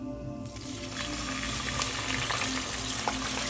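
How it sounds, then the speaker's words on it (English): Onion, garlic and ginger paste fries in a pan with spices for a beef bhuna, giving a steady, soft sizzle and bubbling that runs throughout without speech. "You need to cook the onion, garlic, and ginger paste for 4 to 5 minutes."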